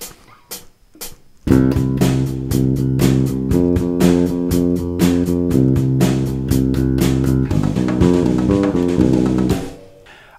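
A bass guitar fill played down the octave, with steady, punchy low notes and a rhythmic pulse after a few sparse hits at the start. It ends in a quieter fade.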